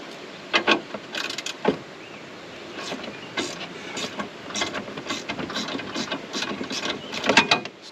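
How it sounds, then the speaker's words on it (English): Hand ratchet wrench clicking away under a 1990 Ford Bronco in a garage, short bursts of rapid metallic ticks repeating at close range, with scattered clanks between strokes and no talking. "30 minutes of ratcheting and we'll be done here"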